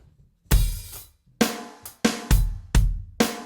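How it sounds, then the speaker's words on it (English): Drum groove from a song remix with a single open hi-hat on the first beat, then a steady pattern of punchy kick and snare hits with crisp cymbal wash, loud and close, no voice. "we're playing the full thing, but only one of the open hi-hats"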